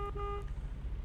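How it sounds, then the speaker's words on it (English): A truck horn in American Truck Simulator sounds in a short faint honk over a low engine rumble, followed by quiet idling. "Honk that baby horn"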